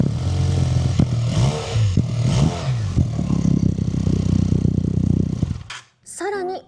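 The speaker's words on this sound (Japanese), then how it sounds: "続いて気になるエンジンサウンドをチェックしていきたいと思います" Harley-Davidson X350, a QJ Motor–built naked bike, with its engine running and revving in steady, close pulses that fill most of the moment before cutting off abruptly, then a brief burst of talk.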